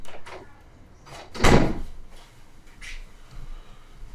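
A household door opening inside a room to let a dog out: one firm knock-like clunk of the door, followed by quieter shuffling and faint movement, with no talk over it.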